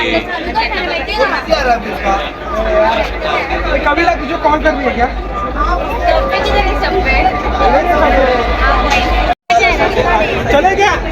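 Dense crowd chatter at the Tata Marathon Dream Run 2025 start, with many overlapping voices forming a loud, continuous babble close by, interrupted by a brief dropout near the end.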